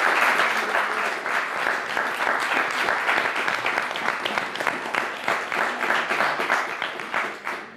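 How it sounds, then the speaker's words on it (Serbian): Sustained applause from a television studio audience at an entertainment show, dense and loud clapping that holds steady for the whole stretch before thinning slightly at the end, with no talk over it. "Jedan aplauz za sve njih koji nam pomožu večeras."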